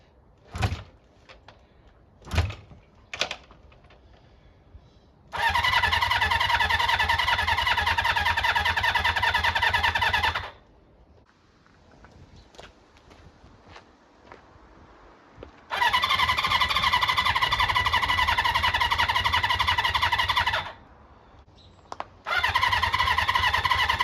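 A Honda CB400 Four motorcycle's electric starter motor whirs in two long bursts of several seconds each, with clicks between, but the engine never catches; a third attempt begins at the end.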